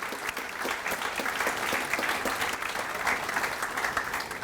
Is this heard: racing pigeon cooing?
no